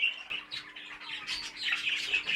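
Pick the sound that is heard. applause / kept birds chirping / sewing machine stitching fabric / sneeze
kept birds chirping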